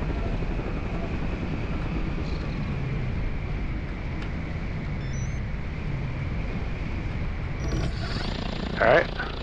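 An electric paramotor motor drones loudly and steadily in flight over a river, a constant whirring hum with a brief bump in level near the end.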